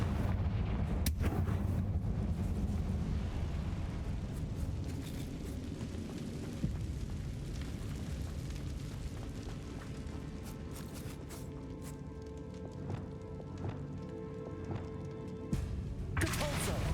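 Confringo spell blasts in the video game Hogwarts Legacy, a run of heavy booming explosions with crackling debris and bursts of fiery impact, a sharp new burst near the end.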